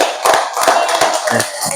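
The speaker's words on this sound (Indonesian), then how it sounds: "Tepuk tangan dulu buat teman kita berdua ini." Schoolchildren in a classroom give a short round of applause, loud, close and uneven, with separate claps fading near the end.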